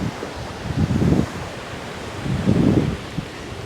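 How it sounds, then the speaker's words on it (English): Gusty wind during Tropical Storm Debby roars at a storm-battered house, with two strong surges rising and falling over a steady rushing background, close to the microphone and with no voices. "Ooh, it's windy."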